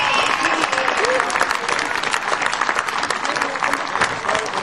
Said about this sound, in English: give everybody else a big round of applause.